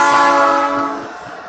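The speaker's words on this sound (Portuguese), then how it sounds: "De hora em hora o trem passa, a madrugada toda." A passing train sounds a long, loud horn with stacked harmonic tones, close by at first and then fading over a rumbling rail background, with no talking.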